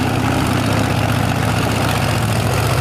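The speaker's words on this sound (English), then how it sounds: "she is clearly having engine problems" A monster truck engine with mechanical trouble at an All-Star Monster Truck Tour show in Brooksville, a steady, loud, low rumbling idle that drones on without pause.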